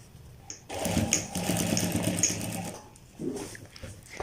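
A sewing machine runs steadily, stitching a tack at the corner of a pocket on a child's pajama, with a brief pause near the end before it starts up again.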